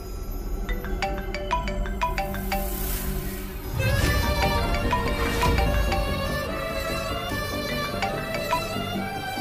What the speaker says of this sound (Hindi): नवजोत आंटी का फोन आ रहा है